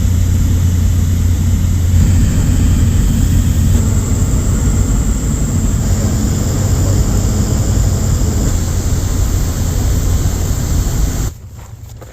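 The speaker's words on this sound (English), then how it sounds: "We're on the plane." Steady, loud engine drone inside the cabin of a small plane flying in Alaska, with a constant low hum, continuing unbroken before dropping off sharply near the end.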